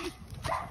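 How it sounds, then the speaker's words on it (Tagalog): A dog gives a short, sharp bark close by outdoors during a walk, a single brief yelp with no talk. "May aso"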